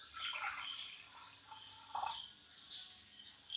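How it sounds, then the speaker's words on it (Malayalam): Water splashes and trickles into a pressure cooker for cooking broken wheat, a quiet uneven pour with brief spattering bursts and drips at close range. "അത് കുക്കറിനകത്തോട്ട് കുറച്ച് വെള്ളം ഒഴിച്ച് കൊടുത്തിട്ട്"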